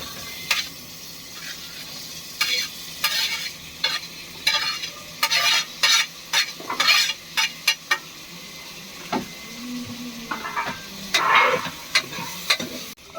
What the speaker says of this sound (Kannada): ಈರುಳ್ಳಿ ಚೆನ್ನಾಗಿ ರೋಸ್ಟ್ ಆಗಿದೆ ಟೊಮೊಟೊ ಹಾಕ್ತಾ ಇದ್ದೀನಿ